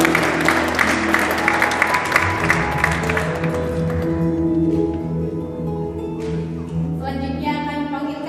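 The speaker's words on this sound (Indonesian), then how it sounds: "Kita berikan tepuk tangan sekalian" Audience applause at a gathering of an Indonesian community association in Hamburg, steady and moderately loud for several seconds before fading into sustained tones and musical sounds.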